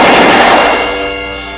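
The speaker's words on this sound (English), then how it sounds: "it sounds like machine gun fire" A single loud gunfire burst hits up close, a sharp crack that spreads into a broadband rumble and then slowly fades away over about a second and a half, with no voices heard.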